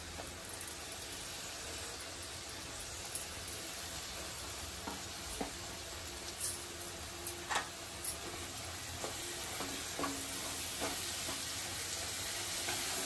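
Green masala paste sizzles in hot oil in a pan as it cooks for a brinjal and potato gravy. A quiet, steady frying hiss runs throughout, with scattered sharper crackles and pops, heard alone.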